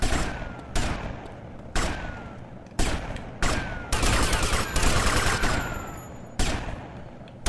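Repeated bursts of gunfire in the video game GTA Vice City Stories: sharp, loud volleys recurring about every second, dense and overlapping in the middle, with no talking.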